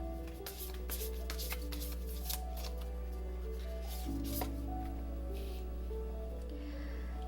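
Tarot cards being shuffled and handled, a series of soft papery flicks and riffles over a steady low electrical hum, with no talk.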